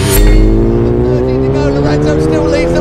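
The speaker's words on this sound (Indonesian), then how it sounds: "What a motorcycle race." MotoGP motorcycles racing on a circuit with Rossi and Lorenzo, a loud high engine whine that climbs in pitch as a bike passes close. A commentator's voice runs beneath it.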